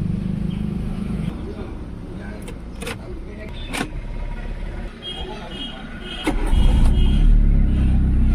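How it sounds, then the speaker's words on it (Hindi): A Chevrolet petrol car that had sat unused for about four months is started after a new battery goes in. There are light clicks and handling noises with voices nearby, then the engine catches near the end and settles into a loud, low, steady run. "और गाड़ी स्टार्ट हो गई"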